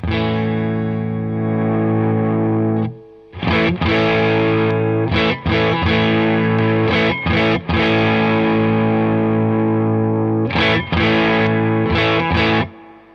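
A loud, distorted electric guitar plays sustained chords and choppy stabs with short breaks between phrases, driven hard through a reissue Marshall Bluesbreaker tube amp.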